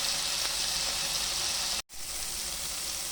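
Tomato, onion and chili sautéing in a pan give off a loud, steady sizzle and hiss that runs throughout, broken only by a brief dropout near the middle.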